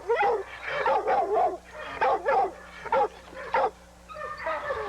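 A pit bull, a game dog kept on a chain, yips and whimpers in a run of short, high, strained cries grouped in bursts, close to the microphone, with faint background hum.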